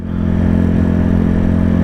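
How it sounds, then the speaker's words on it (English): A Yamaha MT-125 motorcycle with its exhaust baffle removed, its engine roaring loud and close with a steady, rough throb while riding. "because I'm thinking how loud the exhaust is, I'm not going as quick as I normally do"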